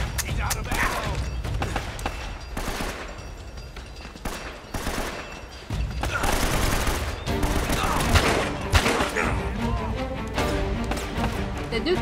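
Enemy gunfire in Uncharted: Drake's Fortune, repeated bursts of shots and sharp impacts scattered irregularly across the clip, some close and loud, mixed with game sounds and talk.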